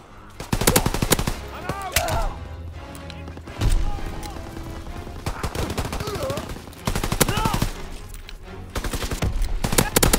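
Bursts of rapid automatic fire from a Holzpistole machine pistol in Call of Duty WW2 multiplayer, several sustained volleys of close, loud shots separated by short pauses, with game background noise between them.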